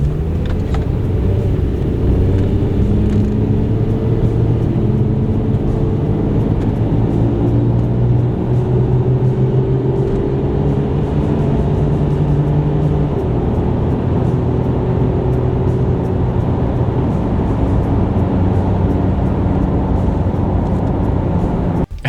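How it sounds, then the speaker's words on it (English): A Toyota Tacoma pickup accelerating from 0 to 60 in Eco mode, heard from inside the cab as a continuous loud rumble whose engine tone climbs gradually, drops back with gear changes and then rises again. "So this test is going to be on Eco mode, so let's go. I'll show you how the 0 to 60 time is on it."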